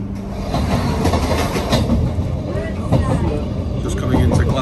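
Passenger train rolling over rails while coming into Clapham across the viaduct on a Yorkshire line, a steady rumbling wheel noise heard from inside the carriage with continuous rhythmic clatter.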